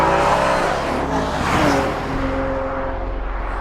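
A 2014 Porsche Panamera 4S with a direct-injected twin-turbo 3-liter V6 drives by up close, its engine note loud and steady, swelling briefly and then settling into a deep continuous drone.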